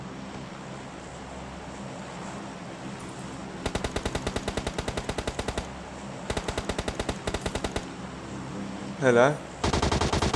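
Gunfire in PUBG Mobile on the Sanhok map, with rapid automatic bursts of evenly spaced shots that start and stop several times, loud and near, with a soft background hum and a brief spoken word.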